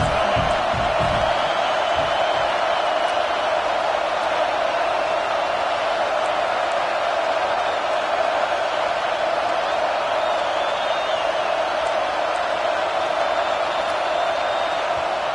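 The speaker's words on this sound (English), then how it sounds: "This crowd is trying to inspire this defense to make a big red zone stop." A large American football stadium crowd roars in a steady, continuous wall of noise during a red zone defensive stand, loud and sustained throughout with no break.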